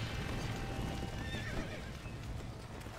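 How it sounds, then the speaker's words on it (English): A horse gallops with steady clip-clopping hooves and whinnies as it is ridden out of a burning barn in a video game, the sounds loud and continuous over a noisy game backdrop. "Ride the last horse out of the burning barn."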